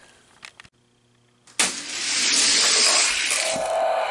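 Hot Wheels toy cars, a Chevy Chevelle and one called Exotic, race side by side down a track, a sudden loud rolling rush of plastic wheels that runs steadily for about two seconds after a few small clicks.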